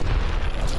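A frag grenade explodes in a video game as a single loud, deep, rumbling burst that fills the whole short moment.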